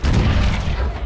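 Sherman tank gun firing in Men of War: Assault Squad 2, a single loud, deep boom that rolls and rumbles out over about a second.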